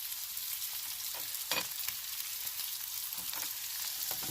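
Noodles and spinach are stirred in a pot while cooking in a campervan, giving a steady sizzling, frying hiss with a few soft scraping clicks of the utensil, close and fairly quiet, with no talking.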